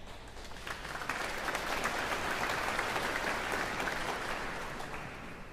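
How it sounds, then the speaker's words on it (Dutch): Applause from a concert audience at a Dutch choir event with male and mixed choirs, a dense, continuous wash of clapping that swells slightly and holds steady, heard from a distance in a large hall. "Applaus voor jullie zelf."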